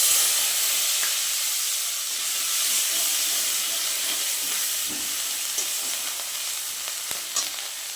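Onion, garlic and green chili paste fry with potatoes in a hot pan, giving a loud, steady sizzle and hiss that runs unbroken throughout with no talking.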